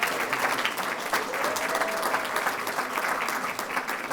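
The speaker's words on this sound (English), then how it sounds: "Let's give another big round of applause." An audience at an evening event with high school performers bursts into sustained, dense applause that carries on steadily from start to finish.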